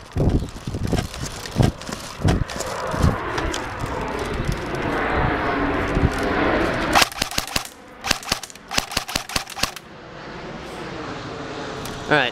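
An airsoft G36 rifle fires BBs semi-automatically at targets outdoors behind a garage, a series of sharp separate pops with irregular spacing, some close together, over a steady background hum.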